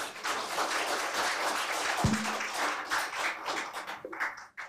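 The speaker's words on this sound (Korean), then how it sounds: "다시 한번 환영의 박수 부탁드립니다." Audience applause at a Korean course entrance and welcome ceremony, a sustained round of clapping from many hands at moderate volume, tapering slightly toward the end.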